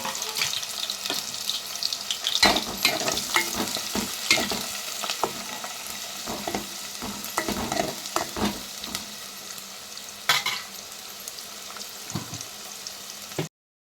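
Onions and green chillies frying in oil in a pan on the stove, a steady close sizzle broken by scraping stirs and occasional clatters, with no one speaking.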